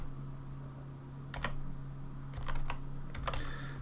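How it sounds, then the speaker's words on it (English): A formula is typed into a spreadsheet on a computer keyboard, with a few quiet, close key clicks in small clusters over a steady low electrical hum. "to work that out I just type in equals average"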